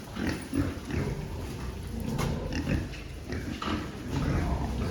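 Pigs grunt continuously in a pen, a dense, close chorus of low snorts and grunts from several animals overlapping throughout.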